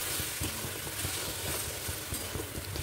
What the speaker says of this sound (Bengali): মশলাটা তেল ছেড়ে যাওয়া পর্যন্ত কষিয়ে নেব